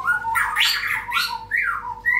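A black-tailed murai batu (white-rumped shama) with a damaged tail gives loud, close squawking calls followed by rising and falling whistled notes, heard alone.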